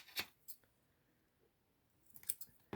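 Scissors snipping paper for a collage card, a few crisp close cuts at the start and a quick cluster near the end, with soft handling in between.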